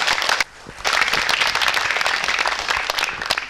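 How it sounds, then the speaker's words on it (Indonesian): Audience applause fills a community empowerment gathering in Kendal Regency after a song performed by the regent's wife. Dense, steady clapping follows a brief dip at the start and continues loud and close throughout. "Kita beri tepuk tangan yang meriah."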